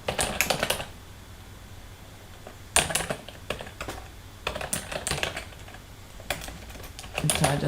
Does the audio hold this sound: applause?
no